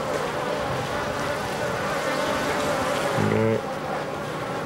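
Bees buzzing around a concrete beehive sunk into the ground in Namibia, a continuous droning hum in the open air while someone speaks over it.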